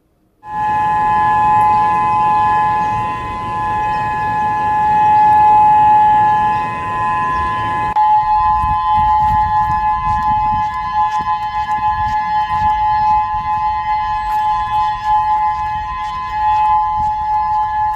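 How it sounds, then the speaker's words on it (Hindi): Civil defense sirens in Hawaii wail steadily and loudly after an alert following a magnitude 8.8 earthquake, a sustained droning tone with a low rumble beneath that drops away partway through. "अलर्ट के बाद हवाई द्वीप में सायरन बज रहे हैं।"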